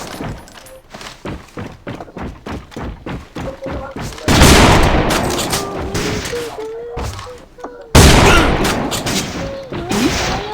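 Handgun fire in the video game AVA rings out as a rapid string of sharp shots, followed by two louder blasts with ringing tails, while excited voices shout over the action.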